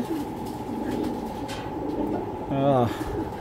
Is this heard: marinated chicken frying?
no